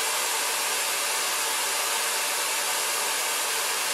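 A vortex tube cabinet cooler running on compressed air at 80 psi gives a steady, loud, broadband hiss like a rushing air jet, constant throughout with no talk.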